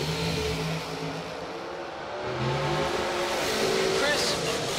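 Dragsters accelerating hard at a bracket drag race, a broad roaring engine wash that dips briefly then swells louder again, with an announcer talking over it throughout.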